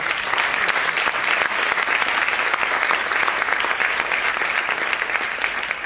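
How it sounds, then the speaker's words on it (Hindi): Dense, steady applause from a crowd at a church worship gathering fills the space for several seconds, loud and even throughout with no voice standing out. "सो क्यों ना हम लोग इन जवानों के लिए जोरदार ताली बजाएं।"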